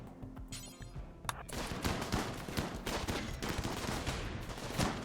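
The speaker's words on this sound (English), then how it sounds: "Heavy machine guns." Heavy machine guns in the Rimworld video game fire in dense, continuous rapid bursts, a loud sustained rattle of overlapping shots across the whole stretch with no talking.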